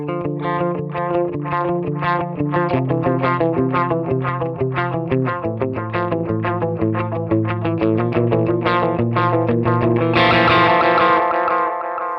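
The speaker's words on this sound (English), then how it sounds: "Let's go ahead and hear some tape echo." Tape echo delay effect on a musical instrument signal, sustained repeating tones with echoing trails and distortion, dense and loud throughout with no talking.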